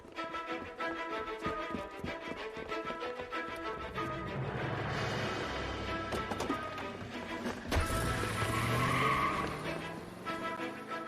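Car tires screech and skid during a chase through 1940s Los Angeles streets in L.A. Noire, with squeals rising over engine roar, a sharp crash-like burst midway and a continuous, loud, busy mix.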